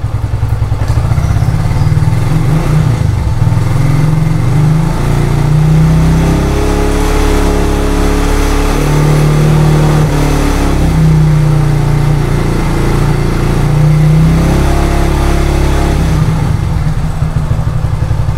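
Honda Tiger motorcycle engine revved repeatedly in close range, the throttle blipped in several surging pulses over a rumbling idle, loud and steady throughout with no talking.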